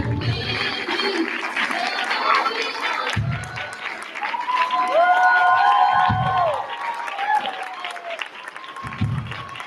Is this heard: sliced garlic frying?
no